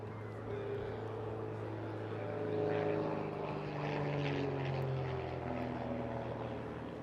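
A propeller aircraft at an airshow drones overhead in a steady, moderately distant hum that swells slightly in the middle and holds throughout.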